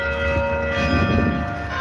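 A hospital cancer-free bell rings with a steady sustained metallic tone and lingering overtones, close and fairly loud, with a faint murmur of room noise beneath and no talking.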